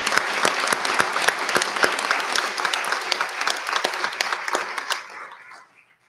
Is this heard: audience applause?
yes